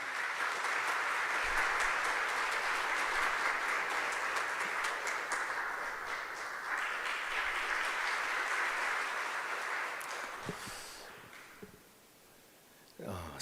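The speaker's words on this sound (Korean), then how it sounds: "우리 큰 박수로 모시도록 하겠습니다" A crowd at a church general assembly policy debate claps warmly to welcome a vice-moderator candidate, sustained applause that fades out near the end, followed by a brief voice.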